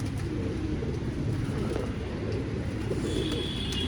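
Pigeons with thin feathers and purple feet coo softly and continuously in a loft, with a low murmur filling the background and no one speaking.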